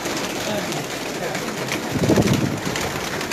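Sialkot-breed pigeons in a fancier's collection give low cooing calls, a fuller burst swelling near the end over steady background noise.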